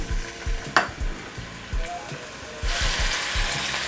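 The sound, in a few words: onions and garlic sautéing in olive oil in a pan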